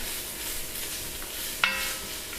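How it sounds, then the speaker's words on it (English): Onion and vegetables sauté gently in a soup pot, a soft steady sizzle with faint stirring and one small clink partway through. "You're just gonna lightly saute your veggies until they're softened."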